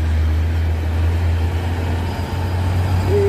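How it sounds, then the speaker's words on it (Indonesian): A heavy truck labors up a steep hill road on a slope made slippery by spilled palm oil, a loud deep continuous engine drone with a steady low hum and a rising whine near the end, no talk. "truk menanjak."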